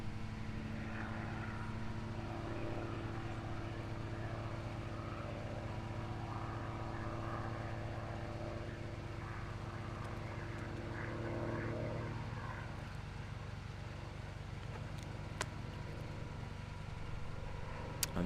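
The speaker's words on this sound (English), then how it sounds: "there on the runway, Laura Russell rolling out in her 330LX" An Extra 330LX aerobatic propeller plane rolls out on the runway at a British aerobatics championship, its engine a steady, fairly distant drone that holds throughout, with no voices.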